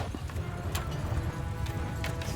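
Massed cavalry hooves from a Mount & Blade II: Bannerlord battle with Battania, a dense continuous rumble of galloping horses with scattered clatter, steady and fairly loud throughout.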